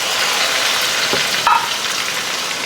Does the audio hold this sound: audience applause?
no